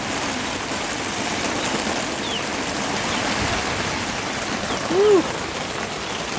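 Heavy rain storm pouring steadily onto a backyard chicken coop housing seven-week-old chicks, a dense continuous hiss of water close by, with a brief cheer from a person partway through.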